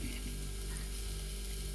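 Onions and a spice tempering frying in a pan for a traditional fenugreek dal, a constant close sizzle with steady crackle and no voices.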